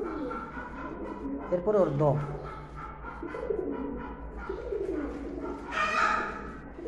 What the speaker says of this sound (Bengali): মাশাআল্লাহ সুন্দর কবুতর।